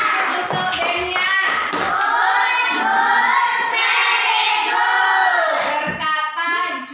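Classroom clapping from a group of students fills the whole stretch, a dense, steady patter of many hands with some loud tapping, lasting several seconds close by.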